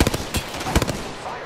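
Gunfire in the Apex Legends video game, a few sharp, close shots in quick bursts, about three or four cracks over a second and a half.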